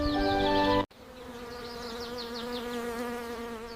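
A bee buzzes close by among peach blossoms. The tone is steady and wavering, breaks off suddenly, then resumes as a softer, continuous drone.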